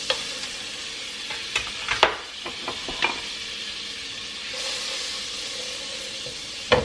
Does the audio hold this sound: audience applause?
no